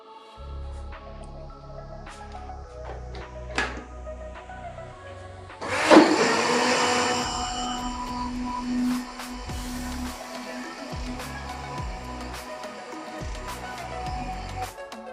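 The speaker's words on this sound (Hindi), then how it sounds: "अब इसको हम अच्छे से करेंगे ब्लेंड।" An electric blender whirs as it blends cream with cold water to make ghee. Quiet kitchen clatter comes first, then the motor surges on loudly and keeps up a steady, slightly churning drone to the end.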